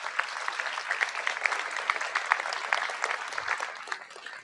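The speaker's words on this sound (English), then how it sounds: "Can you please give him a round of applause?" An auditorium audience applauds at a public science talk, a brief burst of many hands clapping at moderate distance that fades toward the end.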